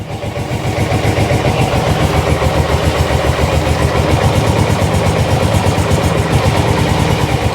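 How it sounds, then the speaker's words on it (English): A motor running close by, steady and continuous, with an even, rumbling idle that holds at the same level from start to finish. "Motor's lovely and quiet."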